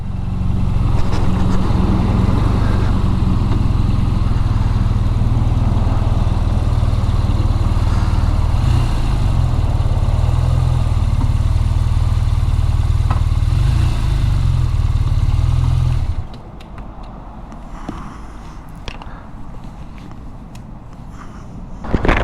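A BMW R12 nineT motorcycle's boxer engine runs loud and close with a steady deep throb for about sixteen seconds, then cuts off, leaving quieter clatter and handling sounds. No one speaks.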